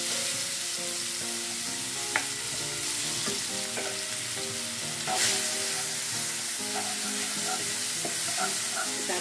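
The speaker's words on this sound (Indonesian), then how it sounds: "Selanjutnya kita panaskan sedikit minyak dan kita tumis bumbu halusnya" Ground spice paste sautés in hot oil for spicy squid, a continuous bright sizzle with occasional stirring clicks, close and steady with no voices.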